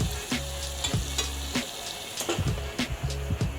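Masala sizzling and frying in a pan while being stirred for ragda puri, a close, steady crackle with recurring scrapes of the spoon, no talk.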